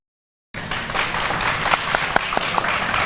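An audience bursts into sustained applause, a dense wash of clapping that starts abruptly and continues steadily.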